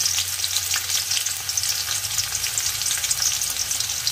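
Garlic and chili fry in hot cooking oil in a pan, a loud, steady, crackling sizzle that fills the whole stretch, close to the pan and with no voices.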